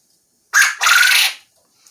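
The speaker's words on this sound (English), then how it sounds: "all 3 roosters are now crowing" Young quail roosters, four weeks old, crow in their new cage: a short sharp call, then a longer raspy one right after, both close and loud against silence.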